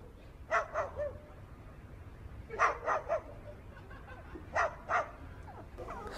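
A parrot mimics a barking dog, giving clusters of two or three sharp yapping barks separated by pauses, fairly faint over a steady background hiss.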